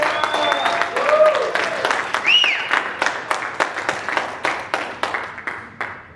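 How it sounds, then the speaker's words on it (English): Audience applauding a keynote motivational speaker, a moderate crowd clapping that thins into fewer, distinct claps, with a few cheers and voices over it. "Let's give him a big round of applause."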